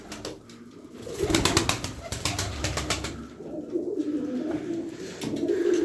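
Domestic pigeons cooing in a loft, with several low, throaty coos repeating close by amid soft rustling and occasional wing movement; no talking.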